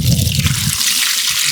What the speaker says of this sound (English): So pour water there.